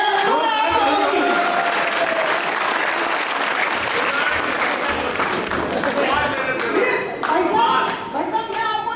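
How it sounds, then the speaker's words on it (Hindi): Loud, sustained applause from a large audience at an all-India Hindi poetry gathering (kavi sammelan) in Khariar, steady dense clapping filling the hall throughout with some crowd noise. "तालियां बजाओ आप लोगों की।"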